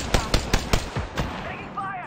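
Machine gun fire in Apex Legends: a quick string of evenly spaced, punchy shots, about seven in two seconds, loud and close, then trailing off into game ambience, with a voice talking alongside.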